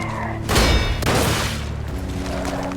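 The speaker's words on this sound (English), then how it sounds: "they feature riflemen that can quickfire with bolt-action rifles" Bolt-action rifles fire in the video game Lies of P, two loud booming shots about half a second apart that ring out over a humming game soundtrack.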